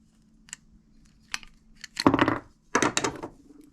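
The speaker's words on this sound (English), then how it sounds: "The first thing we're going to want to do here is take our tubing cutter." A tubing cutter bites through PEX tubing next to a crimp ring, giving a few light clicks followed by two longer, close, gritty crunching cuts.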